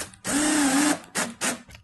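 A power drill driving screws into a metal plate while assembling a Sela CaSela quick assembly kit: one sustained whirring burst about three-quarters of a second long, then two short bursts close by, with no voices.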